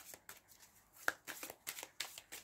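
Tarot cards being shuffled, a rapid run of crisp riffling flicks and soft slaps close by, with one sharper snap partway through and no voices.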